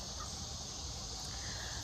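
Backyard chickens clucking and murmuring softly, faint and distant under steady outdoor background noise, over a brief moment.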